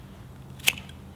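A single crisp snip of secateurs cutting through a rose stem during pruning, one short sharp click near and alone against a quiet background.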